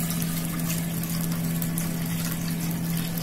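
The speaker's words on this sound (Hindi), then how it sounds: "पानी बॉयल हो रहा है" Water boiling in a covered pot on a stove: a steady low bubbling hum with constant hiss, unbroken and moderately loud, no voices.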